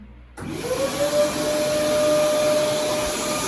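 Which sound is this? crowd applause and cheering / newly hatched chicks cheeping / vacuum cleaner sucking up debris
vacuum cleaner sucking up debris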